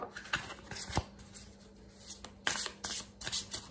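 Tarot cards being shuffled by hand up close, a series of soft riffling bursts and crisp flicks with an uneven rhythm and brief pauses between.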